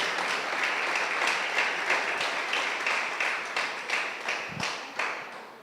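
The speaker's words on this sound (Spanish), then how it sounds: "Y la iglesia le da al Señor un fuerte y poderoso aplauso" A church congregation applauds loudly and steadily in praise, a thick continuous clatter of many hands with a few distinct sharper claps standing out near the end.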